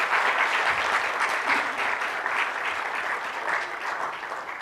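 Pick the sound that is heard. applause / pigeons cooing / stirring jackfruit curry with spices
applause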